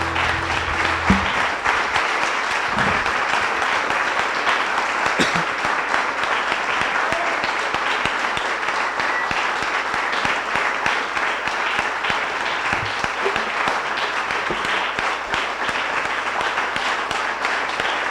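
Sustained audience applause at a tribute event honoring Carlos Luis Fallas, a dense steady wash of many hands clapping for the full stretch, loud and even with no talk over it.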